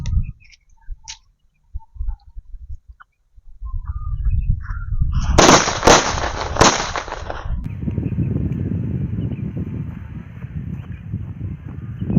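After scattered quiet pops, a loud burst of Laxmi bomb firecrackers crackles and snaps for a couple of seconds, then settles into a steady rumbling hiss.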